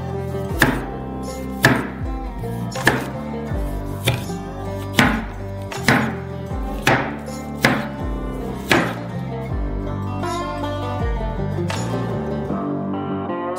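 A knife chops lime into small rounds on a board for marinating sturgeon, a steady run of about a dozen sharp, close cuts at a regular rhythm, with no talking.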